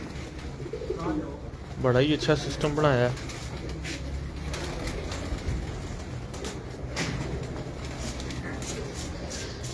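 Flying pigeons on a rooftop coo in soft, rolling phrases, close by, with a voice talking over part of it against steady outdoor background noise.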